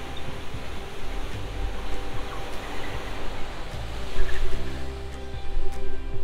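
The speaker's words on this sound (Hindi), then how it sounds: "और जोर से मार रहे पानी।" Sea waves rush and splash continuously against the shore of Ross Island in the Andaman Islands, a loud roaring wash that surges stronger toward the end.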